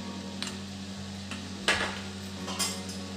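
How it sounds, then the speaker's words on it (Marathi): A spoon stirring moth bean curry in a kadhai pan, with a few sharp metallic scrapes and clinks against the pan over a low steady hum, no voices. "तर छान मिक्स करून घेऊ आपण"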